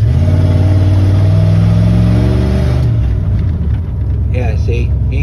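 A 1994 Dodge Ram with the 5.2 engine revs hard with a slight stumble, a loud, close, steady engine roar that holds, then dips and wavers near the end.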